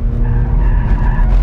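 A car spinning out with its tires skidding, a loud, close rumble of engine and rubber scrubbing across the surface, sustained through the brief moment.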